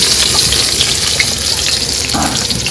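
Dense, steady hiss of chopped onions frying in oil after fish, continuous and fairly loud, with faint clinks now and then and no talking.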